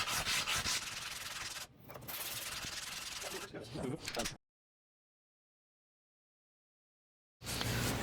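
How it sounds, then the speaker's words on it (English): Wooden or composite knife handle scales lapped flat by hand on 60 grit sandpaper, a steady close scratchy rasp in long strokes for about four seconds, then silence before a brief final burst. "some 60 grit sandpaper, and we just lap everything perfectly flat"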